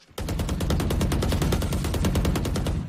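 Rapid automatic gunfire in a video game rattles off as a steady, loud burst of evenly spaced shots lasting nearly three seconds without a break.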